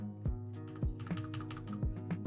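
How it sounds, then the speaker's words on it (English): Typing on a computer keyboard, close and fairly quiet, with a quick irregular run of keystrokes and a few heavier key thumps. "Infernal keyboard."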